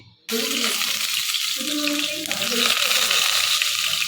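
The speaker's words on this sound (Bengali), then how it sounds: "স্বর্ণদা প্রথমে আলুগুলোকে একটু ভেজে নিচ্ছে।" Potatoes hit hot oil in a pan and break into a sudden, loud sizzle that continues steadily, with voices murmuring underneath.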